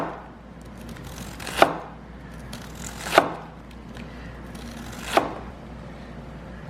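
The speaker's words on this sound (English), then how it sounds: "we're going to cut this piece right here. So our strands of lettuce aren't super long, but then we want to almost shave it." Sharp knife thinly shaving lettuce on a cutting board for a vegan Big Mac: three distinct, crisp chopping strikes spaced about one to two seconds apart, close and clear over quiet room noise.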